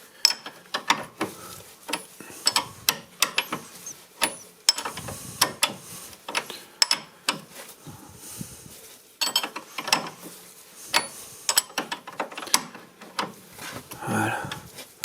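A wrench clicks and ratchets on the steering tie rod of a Renault Twingo, giving repeated sharp mechanical ticks in uneven bursts, close and fairly loud, with brief pauses between.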